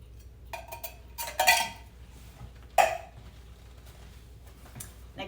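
A spoon scrapes canned beans out of a can in several short, harsh bursts, close and isolated against a quiet background.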